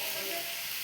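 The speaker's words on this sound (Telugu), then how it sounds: "కొబ్బరి వేసుకొని మంచిగా ఫ్రై అయ్యేదాకా కలుపుకోవాలి." Grated coconut frying in a pan for a beans curry, a steady close sizzling hiss that holds evenly through a brief moment.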